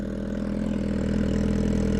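An MV Agusta Brutale motorcycle fitted with a new titanium exhaust rumbles steadily at close range, a deep, even idle with a faint rising edge toward the end.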